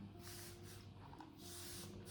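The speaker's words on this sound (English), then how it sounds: "spraying water in my hair till it's like dripping" A continuous-mist spray bottle sprays water onto curly hair to soak it, giving a steady, soft hiss that runs through the whole stretch with brief surges, close and fairly quiet.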